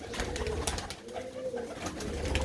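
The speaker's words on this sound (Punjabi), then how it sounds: "ਐ ਕਬੂਤਰੀਆਂ ਬੈਠੀਆਂ ਨੇ ਬਾਹਰ ਆ ਕੇ" Pigeons sitting outside coo softly in a low, rolling murmur, faint and somewhat distant against a noisy outdoor background with scattered rustling.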